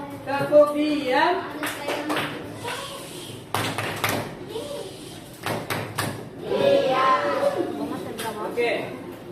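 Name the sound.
schoolchildren doing a rhythmic clapping routine in class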